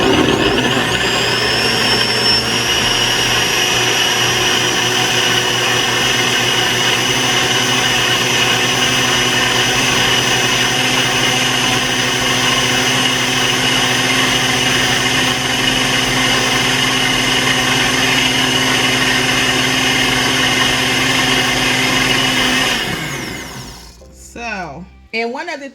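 A Ninja blender runs loud and steady, chopping ingredients with a constant motor whine and harmonic hum before winding down abruptly near the end, followed by a few brief clatters.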